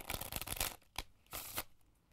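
A deck of 52 playing cards riffled and shuffled by a magician, heard as close, crisp bursts of flicking cards, one long run then two shorter ones, with no talking.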